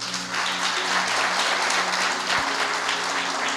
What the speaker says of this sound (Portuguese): Vamos aplaudir a vida do Pablo.